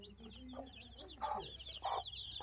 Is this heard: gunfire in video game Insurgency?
no